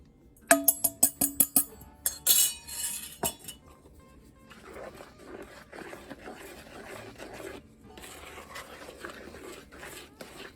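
Dry ingredients go into cornbread batter in a mixing bowl: a quick run of bright utensil clinks against the bowl, then a softer, continuous rubbing and stirring, close by with no voices.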